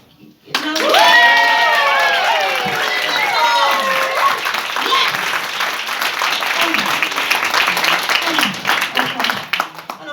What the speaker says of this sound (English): So can we give a massive round of applause to John, to the team, to everyone.